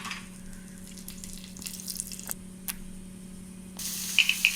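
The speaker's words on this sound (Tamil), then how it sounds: "எண்ணெய் ஹீட் ஆனதும் நம்ம எடுத்து வச்சுருக்க பட்டை, லவங்கம், பிரிஞ்சி இலை இதை போட்டுக்கணும்" Cinnamon, cloves and bay leaf frying in hot oil for a vegetable biryani give a faint, steady sizzle over a low hum, broken by a few light clicks and clinks from a utensil.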